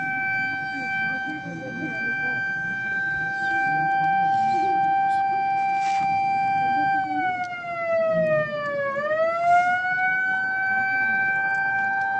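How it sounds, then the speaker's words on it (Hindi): A siren signalling iftar time during Ramadan in a village wails steadily for several seconds, dipping in pitch midway and rising again, loud over faint background chatter and crowd noise. "थोड़ी देर बाद सायरन बज गया, और रोज़ा इफ्तार हो गया।"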